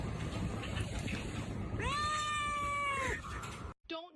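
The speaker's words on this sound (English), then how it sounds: "His meow is so cute" A cat gives one clear, drawn-out meow over steady background noise, followed by a short rougher cry at the end.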